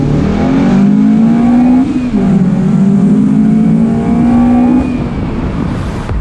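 A Toyota Caldina GT-Four accelerates hard in a drag race against a Honda Accord, its engine droning loudly up through the revs with a dip at a gear change before climbing again.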